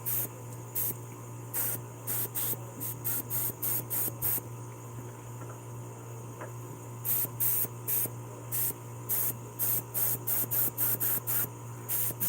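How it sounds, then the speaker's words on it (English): Airbrush at low air pressure spattering paint onto the belly of a smallmouth bass model, heard as repeated short bursts of spray hiss in irregular pulses over a steady background hum, no talking. "you turn down your air pressure, so it's basically throwing the paint out of it instead of spraying it in a nice even stream"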